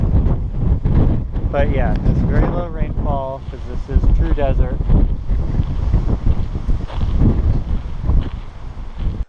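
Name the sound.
wind blowing in Hawaii desert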